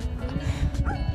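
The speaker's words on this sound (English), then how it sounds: "That doggy don't want to play with you." A dog on a residential street gives a few short barks and yips, close by and fairly loud over steady background noise.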